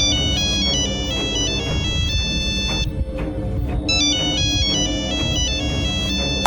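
An electronic phone ringtone plays a repeating melodic pattern, pausing briefly midway before starting again, over a steady background.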